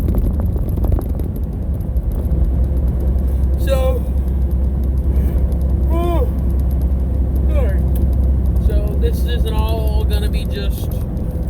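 A truck runs its route with a steady low engine rumble throughout, heard from inside the cab, while brief voice-like chirps rise over the drone now and then.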